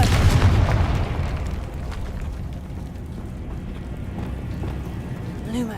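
Confringo spell explosion in Hogwarts Legacy, a loud booming blast at the start that fades into a long rumbling tail.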